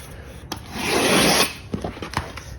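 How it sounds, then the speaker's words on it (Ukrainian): A Tajima segment utility knife slices through ULTIMATE SOUND ABSORBER sound-deadening material in one long, close, rasping cut, followed by a few light taps and handling noises. "Я люблю різати сегментним ножем."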